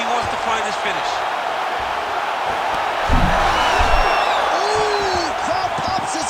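An arena crowd in EA Sports UFC 5 swells into loud, steady cheering and roaring during a fight between Charles Oliveira and Juan Archuleta, with a commentator talking over it.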